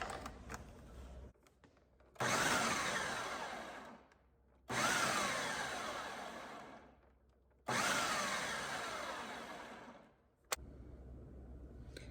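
A food processor pulses pie crust dough into coarse crumbs in three loud bursts of whirring blades, with quiet pauses between them.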